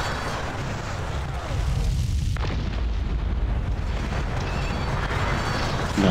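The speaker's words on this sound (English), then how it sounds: "That's blue destroying his captured buildings so that Orange cannot reclaim them." Buildings are destroyed in the Cossacks battle game, heard as a continuous rumbling, explosive roar with a swell around the two-second mark that stays loud and dense to the end.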